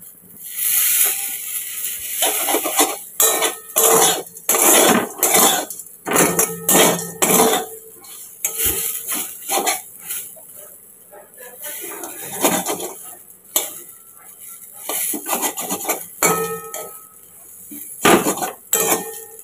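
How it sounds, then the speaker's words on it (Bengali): A utensil stirs food slowly frying over low heat in a pan, with repeated metallic clinks and scrapes against the pan in an uneven rhythm, close and fairly loud, over a faint background hiss. "দেখো একদম ঢিমে আছে, আস্তে আস্তে ভাজছি"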